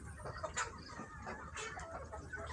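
A chicken suffering from a respiratory snoring illness makes faint, irregular clucks and raspy calls over a low background, with short bursts scattered through the stretch.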